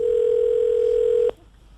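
A steady telephone dial tone holds loud and unbroken for over a second during a phone call, then cuts off abruptly, leaving quiet line hiss.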